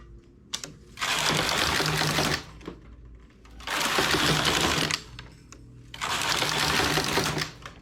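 A knitting machine working a cabled and ribbed cuff, with its carriage making three long, loud rattling passes separated by short pauses with small clicks.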